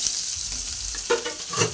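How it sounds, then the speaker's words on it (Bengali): Onions fry in hot oil with a steady sizzle, broken by a couple of scraping knocks as a wooden spatula stirs them in the pan, close up with no voices. "তো দেখো এখানে তেলের মধ্যে আমি প্রথমে পেঁয়াজ অ্যাড করে দিয়েছি"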